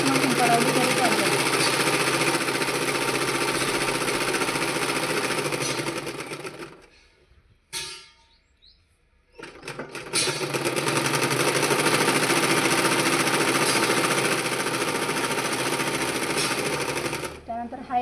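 A sewing machine stitches a blouse with a steady, close whirring drone, falls silent for about two seconds midway, then runs on again at the same even pace.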